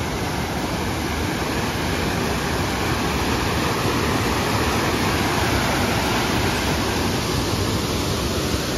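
Floodwater rushes loud and steady through an arroyo in Nogales after heavy rain, a dense, unbroken roar like a torrent that holds constant throughout with no voices over it.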